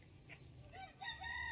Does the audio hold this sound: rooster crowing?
yes